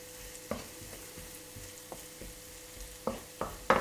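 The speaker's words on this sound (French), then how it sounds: "On va faire revenir très légèrement les échalotes." Shallots sauté lightly in a spoonful of olive oil with a faint, low sizzle and scattered spatula taps and scrapes, a few sharper knocks near the end, and no voices.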